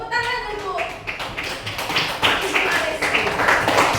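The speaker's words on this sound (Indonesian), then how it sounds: "Tepuk tangan untuk" A classroom of students clapping hands together during a lesson, a loud patter of quick irregular claps with voices mixed in throughout.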